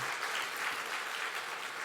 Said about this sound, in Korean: 우리 박수로 찬양하며 박수로 올려드리겠습니다